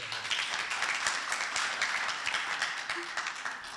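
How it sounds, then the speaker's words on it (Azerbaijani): Loud, steady applause from an audience at a saz music performance, broadband clapping sustained for the whole stretch without a break. "bir gürültülü bir alqışlar gəlsin"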